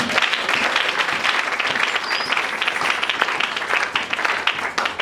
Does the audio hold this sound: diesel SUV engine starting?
no